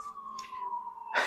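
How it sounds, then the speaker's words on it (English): An emergency vehicle siren on a busy street, a steady wailing tone that drifts slightly lower as it passes, with brief bursts of traffic noise around it and no talk. "excuse me for the sirens because I live on this really busy street"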